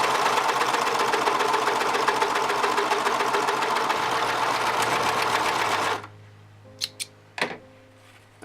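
A Singer 1034D serger runs steadily for about six seconds, pulling stretch fabric through at raised settings to form a loose ruffled gather, then stops, leaving a few faint clicks and knocks.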